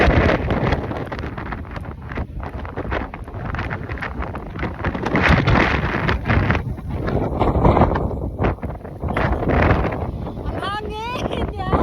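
Strong wind buffets the microphone on a mountain top, a loud continuous roar with gusts rising and falling throughout, while a person speaks and exclaims over it.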